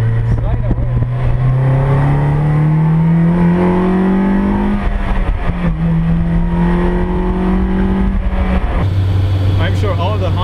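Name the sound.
S2000-engined AE86 Corolla driving and drifting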